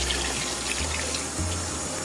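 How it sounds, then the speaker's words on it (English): Water pours from a tap into a pot to cover seasoned lamb for curry, a steady splashing and filling stream heard close, continuous with a slight shift in pitch as the level rises, no talking. "I'm gonna add enough water to cover the lamb"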